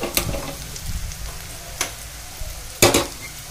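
Pieces of bitter gourd fry in hot oil with a steady, close sizzle, broken by a few sharp scraping stirs of a spatula.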